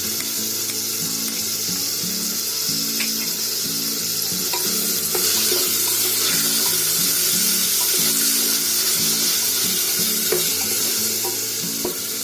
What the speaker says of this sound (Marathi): आता आलं लसूणची पेस्ट टाकते.